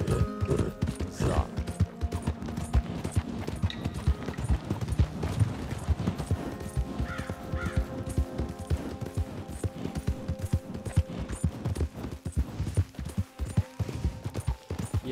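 Horse hooves from Red Dead Redemption II clip-clop steadily and closely throughout while riding, a brisk, even rhythm of hoofbeats with faint other game sounds beneath.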